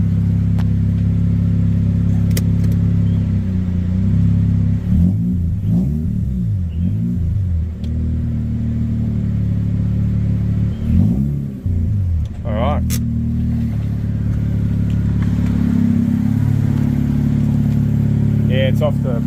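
A Mazda RX8 with a rotary replacement engine idles with a loud, buzzing drone and rises in several revs as the car is put in gear and eased forward. A person talks intermittently over the engine.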